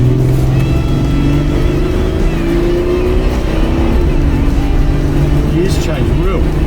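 A 1989 Jaguar Sovereign V12 drives uphill in manual mode, its engine drone loud and close as the revs climb and drop through quick gear changes, with speech in the cabin over it.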